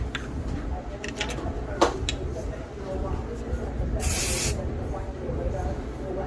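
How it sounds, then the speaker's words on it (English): A short, bright hiss of an aerosol spray bursts out once over a steady background, standing clear for about half a second. "I'm gonna spray just a little bit in to help me set a foundation for the blow dry"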